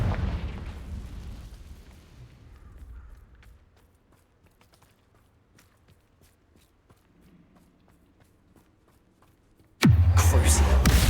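A Confringo blasting curse in Hogwarts Legacy: a loud burst at the start decays into near silence with faint ticks, then a second powerful blast erupts sharply at the end.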